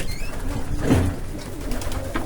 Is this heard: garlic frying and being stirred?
no